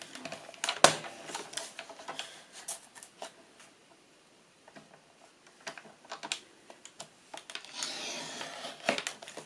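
A paper photo is cut out for a scrapbook page, giving close, irregular snips, taps and paper rustles with short pauses between them and no talking.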